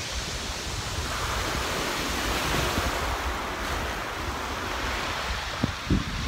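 Sea waves washing onto the shore at Durdle Door in Dorset make a continuous broad hiss, with wind buffeting the microphone and a few soft knocks near the end.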